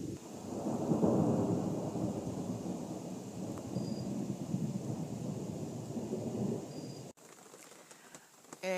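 A nighttime thunderstorm over Harry S Truman State Park, Missouri, with heavy rain pouring steadily and deep thunder rolling through the first seconds, continuing as a dense wash of rain until a brief cut near the end.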